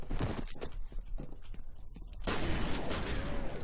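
Enemy gunfire in the shooter game F.E.A.R., rapid crackling shots from several directions, then a denser, louder barrage of overlapping bursts near the end.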